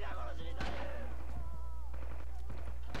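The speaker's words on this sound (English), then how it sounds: "That would be artillery." Artillery and gunfire in the video game Red Orchestra: Rising Storm, a few booming impacts and shots mixed with voices talking over a constant loud rumble of battle.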